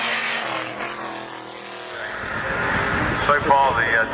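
Vintage AC Cobra racing cars at the Goodwood Revival roar past, the engine noise swelling in the second half while a commentator talks continuously over the track sound.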